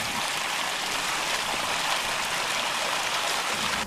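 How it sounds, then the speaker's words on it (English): Water rushing from a fire hydrant opened slowly to flush trash out of the barrel, a loud, dense, continuous roar of gushing water, close and unbroken throughout. "To clear smaller waste from the barrel, open the hydrant slowly. The force of the water will lift the trash up the barrel"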